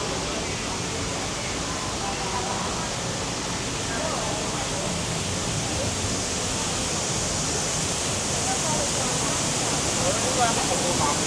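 Shifen Waterfall in Taiwan roars as a steady, broadband rush of falling water that does not let up throughout, with faint voices beneath it.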